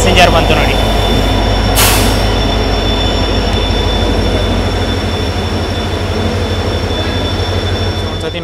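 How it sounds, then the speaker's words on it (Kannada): A Chamarajanagar–Tumakuru passenger train rolls past close by on an Indian rail line, a loud, continuous rumble of wheels and coaches with a brief squeal, sustained steadily for several seconds. "ಚಾಮರಾಜನಗರ ತುಮಕೂರು ಪ್ಯಾಸೆಂಜರ್ ಬಂತು ನೋಡಿ."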